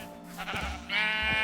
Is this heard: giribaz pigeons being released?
no